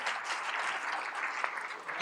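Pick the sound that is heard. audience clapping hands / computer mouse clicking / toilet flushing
audience clapping hands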